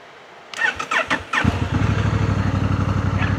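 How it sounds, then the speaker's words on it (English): A starter whirs in a few short bursts, then a Honda Africa Twin motorcycle engine catches and settles into a loud, steady, close-up idle chug. "with that on, I can go ahead and start the bike"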